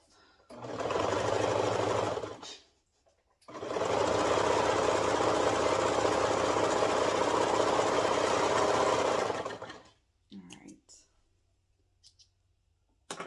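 A home sewing machine stitches double brushed poly fabric in two sustained, loud, steady whirring runs, a short one and then a longer one, separated by a brief pause and followed by quieter handling clicks.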